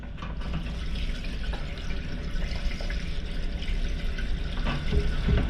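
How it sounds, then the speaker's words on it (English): Water pours steadily into a caravan or motorhome toilet cassette, a continuous close splashing trickle with no voices. "So we can add water through here"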